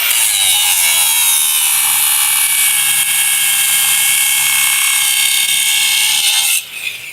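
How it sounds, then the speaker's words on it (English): Steel bar about 1/4 by 3/8 inch ground against a 40 grit grinding face at an equipment expo tool booth, a loud, steady high-pitched grinding whine lasting several seconds before cutting off abruptly near the end. "We're going to grind now with a 40 grit face."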